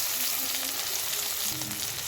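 Onion, garlic and a chopped small tomato frying in hot oil in a pan, giving a loud, dense, continuous sizzle that holds steady throughout with no voices.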